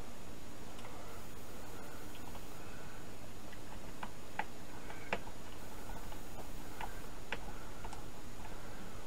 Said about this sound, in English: I'll put the black screws in here.